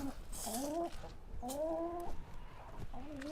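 Backyard chickens cluck in short rising calls during a morning feeding, a few clear bursts close by over steady outdoor background noise.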